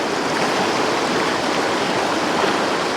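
Fast-flowing water of the Cowlitz River rushing over rocks, a steady, full, continuous roar close by with no pauses and no voices.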